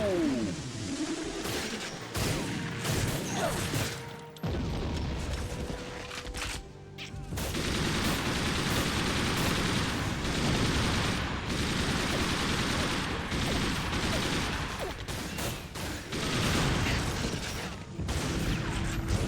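Sustained heavy gunfire in TimeSplitters: Future Perfect, loud automatic bursts with mechanical clatter, a brief lull early on before a long unbroken volley.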